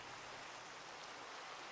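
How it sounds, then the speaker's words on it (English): Steady, soft rain hiss from the ScratchCraft video game, a quiet, even wash of falling rain with no talk over it. "I like the rain."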